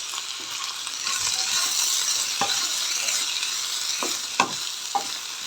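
Curry leaves sizzle and crackle in hot oil while tamarind and other chutney ingredients fry in a pan, a steady close hiss with occasional sharper pops and a few stirring scrapes, no talking.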